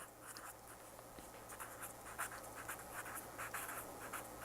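A pen or pencil writes a short quote by hand onto paper in a quiet classroom, giving faint, close scratching strokes in short irregular bursts.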